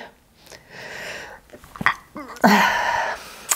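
A single sharp sneeze bursts out near the microphone, preceded by a few quick breaths and short throat sounds.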